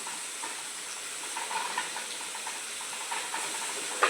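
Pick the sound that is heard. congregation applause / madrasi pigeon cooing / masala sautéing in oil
masala sautéing in oil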